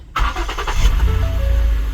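A 2012 Ford Edge Limited cranks over briefly and catches, its engine settling into a steady low idle rumble close by, with no talking over it.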